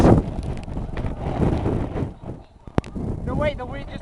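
Gusty wind buffeting the microphone outdoors during a hail storm, low rumbling blasts rising and falling under people talking, with a sharp click partway through.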